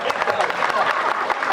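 Brief burst of audience clapping at a convention panel discussion, close and moderately loud, lasting just over a second.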